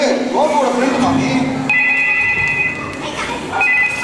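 A telephone rings with a steady, bright electronic tone in two bursts during a comedic Tamil stage skit, while voices talk over it.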